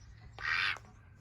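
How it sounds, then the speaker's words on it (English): A single quiet, raspy quack from a male Pekin duck lasting under half a second, over a low background rumble. "That's the sound of a father duck's quack."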